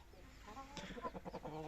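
Chickens in their coop at dusk give a few soft, close clucks and short murmuring calls, rising briefly after a quiet start.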